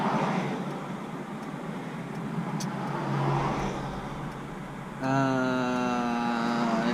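A Subaru drift car's engine hums steadily while driving, with road noise; near the end the engine note rises in pitch as it accelerates.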